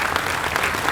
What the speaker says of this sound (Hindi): जोरदार तालियों के साथ अभिनंदन करें श्रीमती कितनी देवी